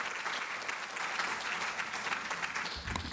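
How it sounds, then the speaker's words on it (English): Applause from a lecture audience after a talk on ultra-processed foods and human health, dense and sustained clapping filling the room at an even level. "I hope you heard the applause."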